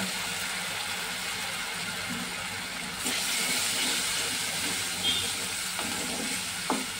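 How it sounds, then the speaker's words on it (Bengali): Spices sizzling steadily in a pan with a splash of water added, a continuous loud frying hiss that swells midway, with faint clinks of stirring. "একটু জল দিয়ে মশলাগুলোকে ভালো করে কষিয়ে নেব"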